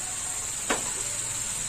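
Onion and green chilli paste frying in oil, a soft steady sizzle close by with one quick scraping stir.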